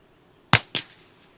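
A Tikka T1X UPR rifle fires one loud, crisp shot, quickly followed by a second sharp report as it echoes back, then fades to quiet.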